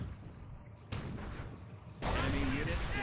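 A battle explosion in Company of Heroes at Angoville bursts in as a sudden broadband blast that swells louder partway through, amid rumbling combat noise.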